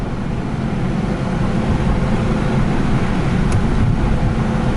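Ford Mustang with open exhaust driving in the rain, heard from inside as a steady loud rumble of engine and road noise mixed with the hiss of wet tires, continuous and without talk.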